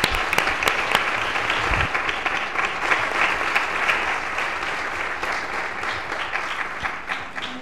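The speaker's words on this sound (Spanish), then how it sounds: "le seguimos mandando toda nuestra energía con este gigantesco aplauso" Loud, sustained applause from an audience at a children's plenary session, dense continuous clapping with a few sharper individual claps standing out near the start.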